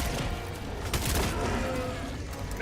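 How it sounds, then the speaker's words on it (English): Minigun fire in a video game: a dense, continuous rattling roar of rapid shots, loud and unbroken throughout, with no speech over it. "Every time I try to use the minigun, this is what happens."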